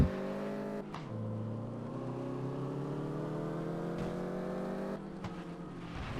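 Car engine in the GM Rally video game, 250 horsepower, revving and accelerating sluggishly with a steady droning whine that climbs in pitch, briefly dropping and restarting twice.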